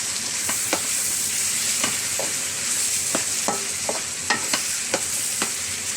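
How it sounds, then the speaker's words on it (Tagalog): Bottle gourd sautéed with misua noodles and canned sardines being stirred in a pan: a steady bright sizzle overlaid by irregular clinks and scrapes of a utensil against the pan, close and fairly loud. "Haluin."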